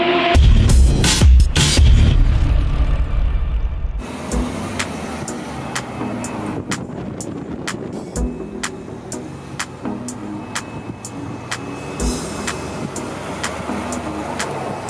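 A Nissan X-Trail with a 2.0 dCi turbodiesel engine on the road, giving a steady broadband engine and tyre roar that is heavier for the first few seconds, then evens out, with faint regular ticks throughout.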